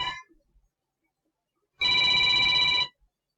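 A telephone in a back office rings, one short trill fading at the start, then silence, then a single loud electronic ring lasting about a second, close and clear with no talk.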